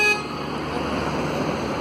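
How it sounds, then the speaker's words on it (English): Car horns honking in congested city traffic in Chongqing, China, a brief toot at the start giving way to a steady wash of engine and road noise close by. "Yeah, they're honking."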